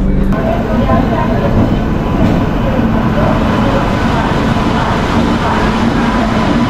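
The Shalimar Gorakhpur Express, train 15021, rumbles steadily from inside a carriage while running about an hour late, a loud, constant roar without pauses.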